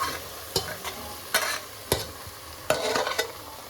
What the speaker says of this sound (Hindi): अब डाल देते हैं इसमें ये मेथी और आलू